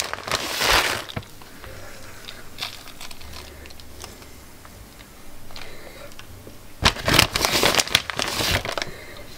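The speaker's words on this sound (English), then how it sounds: "sorry for the noise of the plastic bag," Plastic bag holding cheese crinkles in two loud bursts with softer rustles and small ticks between them, close by with no talking.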